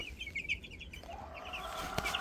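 Cornish Cross meat chickens in a brooder pen, a faint cluster of soft clucks and peeps repeating over low background hum, with a brief sharp knock near the end.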